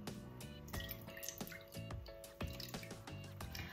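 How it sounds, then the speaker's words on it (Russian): Beaten eggs and milk are poured into a mold, with gurgling splashes and small drips, close by and fairly quiet. "просто переливаем взболтанные яйца с молоком в форму"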